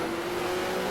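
Race car engines rev in a racing game set at the 1974 Pocono 500 under yellow before a restart, a steady droning engine note held at constant loudness for a brief moment.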